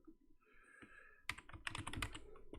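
Someone types on a computer keyboard at a desk while working in Python, producing a quick burst of close, crisp key clicks that starts faint and grows into a dense run of taps.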